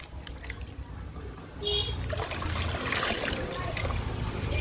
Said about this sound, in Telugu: ఈ లిక్విడ్ని మొక్కలకి ఇచ్చేద్దాము